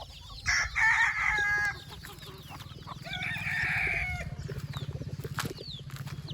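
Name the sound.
chickens clucking and rooster crowing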